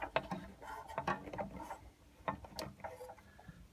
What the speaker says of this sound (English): Make sure we have the blade at least covering the wheel, and give it more of a tighten.